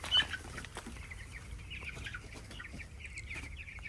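Chickens cluck continuously at a poultry farm, a dense mass of birds calling at moderate distance with steady barn noise beneath and no talking.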